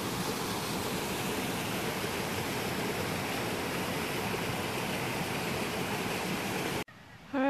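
A small waterfall splashes into a stream along a hiking trail in Washington, a steady close, loud rushing roar that fills the scene before cutting off abruptly near the end.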